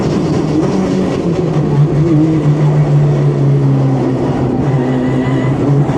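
A 600hp Ford Escort race car on track gives a loud, close, steady engine drone laced with a sustained transmission whine that wavers slightly in pitch, with no talking.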